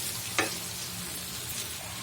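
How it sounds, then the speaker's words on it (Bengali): A sweet pumpkin stir-fry sizzles in oil in a pan on a hot stove, a steady, fairly quiet frying hiss with one sharp scrape of the spatula early on as it is stirred, and no voices. "এই পর্যায়ে আমি আবার একটু নেড়ে চেড়ে দিব ভাজিটাকে"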